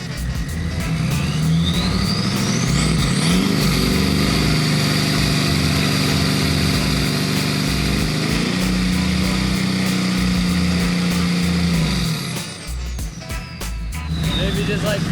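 Humvee engine running loud and close with a steady rumble, rising and falling through revs several times with a strong low drone throughout.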